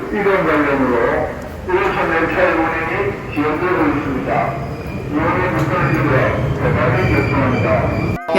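A delayed, crowded subway train rumbles into a station in Busan with steady, loud mechanical noise, while people talk throughout over the clatter.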